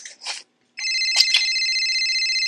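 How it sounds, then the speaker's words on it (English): A phone rings in the Roblox video game: after a couple of short electronic chirps and a brief gap, a steady, bright, trilling ringtone starts and continues loudly, with no talking over it. "Excuse me, you're getting a phone call."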